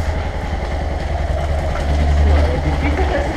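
A motorcycle engine runs with a low, steady rumble that swells slightly toward the end, close by and continuous through the short stretch.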